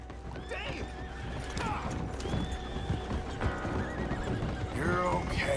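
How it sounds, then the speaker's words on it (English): Hooves of a two-horse carriage clip-clop steadily across a closed bridge in Red Dead Redemption 2, with a couple of whinnies rising above the rhythmic trotting at moderate volume. "A 2-horse carriage coming through a closed bridge."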